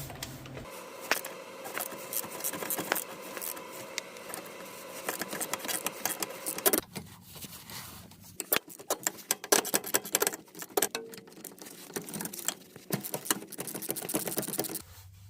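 Rapid clicking of a ratchet with an extension and swivel head working 14 mm bolts loose on a Subaru Crosstrek during a wheel bearing job, in close, busy bursts with a short pause midway.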